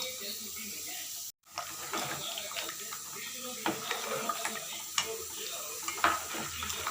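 A spoon scrapes and stirs through a pot of boiling mutton curry, with soft sizzling and bubbling and occasional clinks against the metal, close up, with talk in Tamil alongside.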